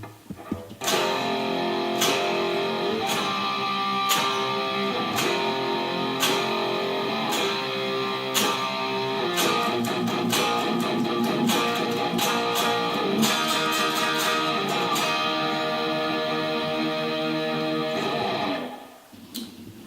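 An electric guitar plays the power-chord section of a song, loud sustained distorted chords struck in a steady rhythm, close and alone for most of the passage before cutting off near the end.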